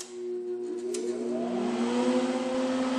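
Everlast Power i-MIG inverter welder switched on, its electronics and fan rising into a steady tonal whine and hum that holds close and continuous.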